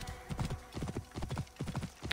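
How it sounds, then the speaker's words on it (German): A horse galloping in Assassin's Creed Origins, quick clustered hoofbeats thudding in a repeating three-beat rhythm, close and fairly loud, heard alone. "Mit unserem Pferdchen"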